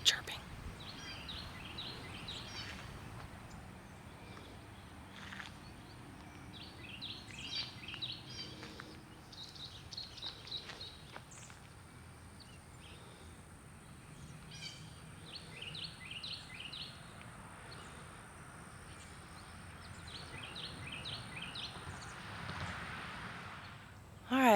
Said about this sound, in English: It's nothing but birds chirping.